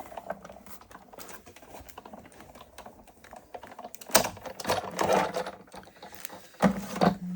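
Shaped card being cut through during a craft project, giving soft scratchy scraping under a quiet background, then two louder, closer cutting bursts near the end.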